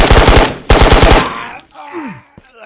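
Rapid automatic gunfire from the player in the video game Ghosts of Tabor, a loud close burst of shots in two quick volleys, then a fading tail with a short rising electronic tone.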